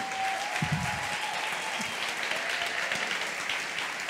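A stand-up comedy audience applauding to welcome guest Roberto Mercadini, a dense, steady wash of clapping with a few brief voices mixed in.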